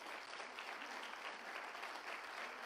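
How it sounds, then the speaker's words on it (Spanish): A church congregation claps together in a steady, even burst of applause, a dense wash of hand claps heard at moderate distance for a few seconds. "Dale un fuerte aplauso al Señor."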